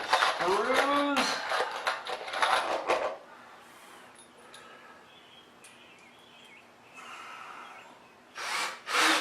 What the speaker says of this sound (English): Now we get our star bit and screws.